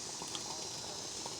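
Water boiling on a hobo stove at a lakeside campsite, a faint, steady bubbling hiss running continuously and quietly close by.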